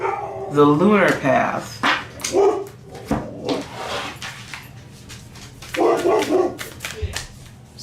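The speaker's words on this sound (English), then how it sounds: "Sorry about the dog." A dog barks and yips repeatedly indoors in short irregular bursts, some close and loud, over someone talking.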